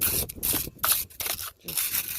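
A wire brush scrubs battery terminals after a cleaning spray, giving fast, gritty back-and-forth scraping in several bursts with short pauses, close and fairly loud.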